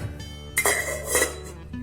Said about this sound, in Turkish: Bunu güzelce karıştırıyoruz.